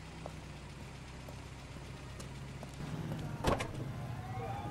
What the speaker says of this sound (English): It sounds like a diesel engine.